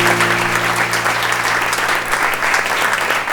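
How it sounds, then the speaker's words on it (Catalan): Steady audience applause in a podcast studio, dense clapping from a small crowd sustained evenly throughout, close and fairly loud with a faint hum beneath. "Un aplaudiment per un consell, bon consell."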